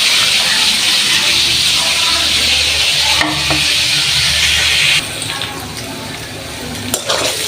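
Frying in a pan while a rohu fish curry with bitter gourd, potato and pointed gourd is made gives a loud, close sizzle with stirring clatter, then quieter bubbling after a clunk midway.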